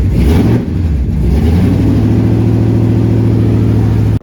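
A car engine revs as the driver presses the gas, rising from a rough start to a loud, steady mid-pitched drone held close to the microphone.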